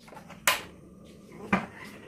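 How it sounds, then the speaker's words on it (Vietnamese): A gas stove is lit for frying: two sharp ignition clicks, about a second apart, in an otherwise quiet kitchen. "Bật ga lên nha cả nhà."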